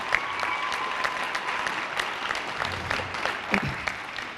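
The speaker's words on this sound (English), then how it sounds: "Give them a round of applause." Sustained applause for girls' basketball players fills a school gym, a steady wash of clapping from friends and family lasting several seconds, with occasional louder claps and faint crowd noise.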